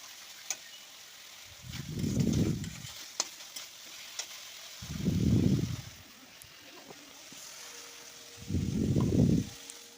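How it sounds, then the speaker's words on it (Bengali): Fish curry masala with turmeric powder being stirred in a pan, three separate bursts of scraping and sizzling with quiet gaps between them, close and moderately loud, no voices. "হলুদ গুঁড়ো দিয়ে ভালো করে নাড়াচাড়া করে নিচ্ছি।"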